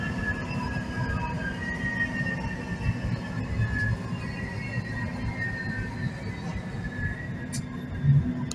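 A metro train in Bursa, Turkey rumbles steadily along the track, a deep continuous roar with faint squealing tones above it, heard from inside the carriage.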